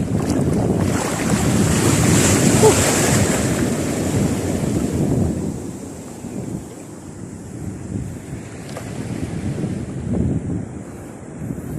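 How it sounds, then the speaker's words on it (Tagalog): Ocean waves surge and wash around a small fishing boat at sea, a loud windy roar over the microphone that eases partway through, then a rougher rush of water; no speech. "Naku, may alon. Alon ba malaki? Alon! Alon! Grabe."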